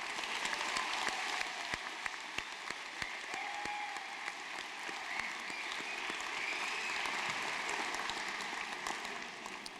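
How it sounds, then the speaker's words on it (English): Steady applause from a university convocation audience for math and statistics graduates, a soft, continuous crackle of many hands filling the room at moderate distance. "Please let's give them a round of applause."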